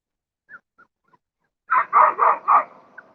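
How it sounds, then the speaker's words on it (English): A puppy heard by a reservoir gives a few faint yips, then a quick run of four clear, close barks in steady rhythm, ending with a short soft yip. "It's a happy puppy."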